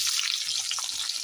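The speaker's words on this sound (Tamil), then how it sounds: "இப்போ நம்ம வெங்காயம் சேர்த்துக்கலாம்" Chopped onions hit hot oil already crackling with fried fennel seeds, a bright continuous sizzle with small popping bursts, close and loud, with no talking.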